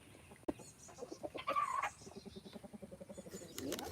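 Backyard chickens clucking at close range in a repeating, busy pattern with a few louder squawks, the calls running steadily without any talk over them.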